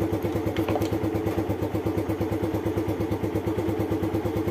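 A motorcycle engine idles steadily after being started, a low, even, rapid putter with mechanical clatter, close and continuous, no one talking.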